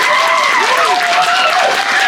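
At a Balinese Calonarang temple performance, a crowd applauds the gamelan musicians in a short, loud burst of clapping, with voices calling and cheering over it.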